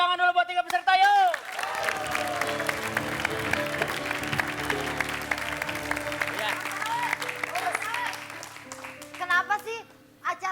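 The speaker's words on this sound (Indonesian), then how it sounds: "Yuk tepuk tangan dulu buat 3 peserta yuk." A television comedy show audience applauds for three contestants with a sustained burst of clapping and some cheering, framed by a host's voice at the start and end.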